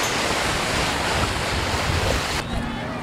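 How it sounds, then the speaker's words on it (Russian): Strong, steady wind at a winter ice-fishing spot roars and buffets the microphone, with a rushing, surf-like wash throughout that eases slightly near the end. "Честно говоря, ветрено еще"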